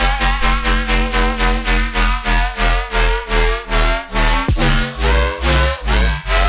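A trench-style electronic music track plays back, with a pounding, evenly pulsing beat under dense layered synths and deep bass, loud and continuous.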